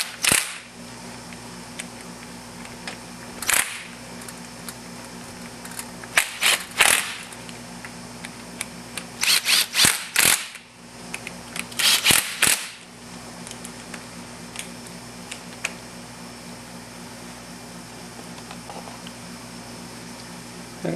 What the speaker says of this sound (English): Okay, we get our last bolt on. We torqued all these down.